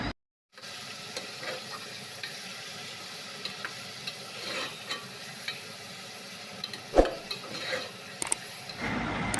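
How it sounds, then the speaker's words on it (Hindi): Beef pieces and ginger-garlic paste frying in a pan for bhuna gosht, giving a steady close sizzle with scraping stir strokes and a few sharper clinks of the spoon against the pan. "भून लेंगे गोश्त का कलर चेंज होने तक और अदरक लहसुन की कच्ची स्मेल दूर होने तक।"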